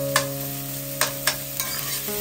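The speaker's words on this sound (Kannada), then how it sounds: "ಆನಿಯನ್ ತೊಗೊತಾ ಇದ್ದೀನಿ, ಅದಾದಮೇಲೆ 2 ಹಸಿಮೆಣಸಿನಕಾಯಿ ಹಾಕ್ಕೊಂಡು ಫ್ರೈ ಮಾಡ್ಕೊತಾ ಇದ್ದೀನಿ" Chopped onions and two green chilies frying in a pan, a steady close sizzle broken by four sharp clicks of a spoon stirring against the pan, with no talking.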